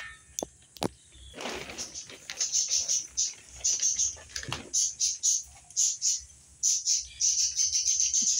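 A bird chirps near a house in a rapid run of bright, evenly spaced calls that continue to the end, preceded by a few sharp knocks and clatter, with people speaking at times.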